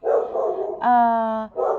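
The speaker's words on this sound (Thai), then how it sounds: "เป็นคนอาจจะมีเสียงสุนัข หมาเห่าบ้างนะคะ" A dog gives a drawn-out, tonal whine-like bark lasting under a second, sandwiched between stretches of someone talking close to the microphone.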